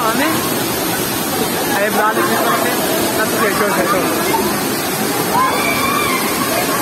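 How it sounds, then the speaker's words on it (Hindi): Water pours steadily down a waterfall between mountains at a natural swimming spot, a constant rushing wash filling the scene while someone speaks over it. "ये बिल्कुल पहाड़ों के दरमियान से पानी नीचे गिर रहा"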